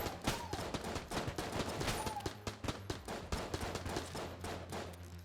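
Rapid gunfire in the video game Enter the Gungeon: a dense string of sharp, close shots cracks in quick succession, some in clustered bursts, over a steady low game hum.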